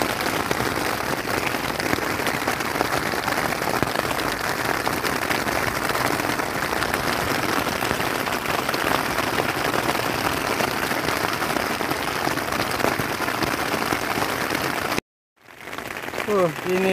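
Heavy rain pours steadily onto a camping tarp and tent during a solo camping trip, a dense continuous hiss that stops abruptly near the end before faint ambient sound and a brief voice return.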